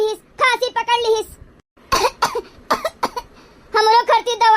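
Several sharp coughs burst out in the middle, set between stretches of a child's high-pitched voice talking before and after.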